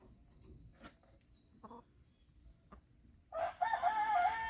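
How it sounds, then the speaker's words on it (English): A rooster crows loudly and close by on a farm, a long wavering call rising after a few seconds of faint background ticks and rustles. "I'll crow when I feel like it."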